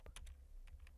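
A computer keyboard being typed on to enter a Linux command, a quick burst of about six light key clicks, close and quiet.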